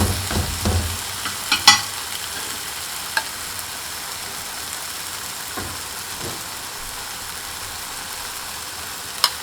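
Seasoned eggplant sizzling on a grill as it cooks, a steady low frying hiss with a few sharp clinks and taps of a utensil, close and fairly quiet with no talking.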